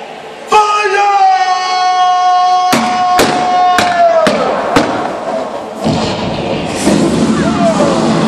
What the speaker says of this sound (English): Men, on my command, fire all cannons.